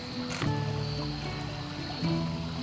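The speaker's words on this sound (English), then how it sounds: "I like the interaction of the water where it creates the rapids through the rocks" Marsh Creek water runs over rocks in the woods, a soft, close gurgling and trickling with a couple of brief splashy accents, fairly quiet and without talk.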